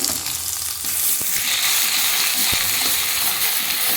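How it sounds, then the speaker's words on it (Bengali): Mustard paste with green chilli paste, salt and turmeric frying in a pan for a mustard fish dish, giving a loud close sizzle with occasional stirring knocks against the pan. "নাড়াচাড়া করছি।"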